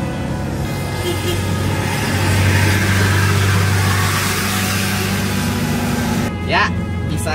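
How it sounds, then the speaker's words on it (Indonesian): A car engine revs in second gear while climbing a bend, a close, steady drone that swells partway through, with people talking over it. "bisa naik dengan gigi 2, nembak dikit."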